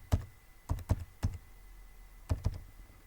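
Keys clatter on a computer keyboard as a bag ID is typed in: a few quick clusters of sharp, close taps with short pauses between them, in a quiet room with no talk.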